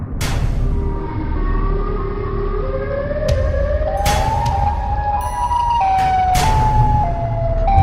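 Wailing siren of Siren Head from a horror video game, rising and falling in long loud sweeping tones over a dense low rumble, with sharp bursts and layered pitched wails throughout.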